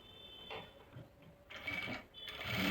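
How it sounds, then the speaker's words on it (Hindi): A sewing machine runs a second line of stitching on a dhoti salwar in short, quiet bursts, with faint mechanical ticking and fabric handling between them. "ये देखिए, एक सिलाई लगाने के बाद एक सिलाई और लगा लेंगे।"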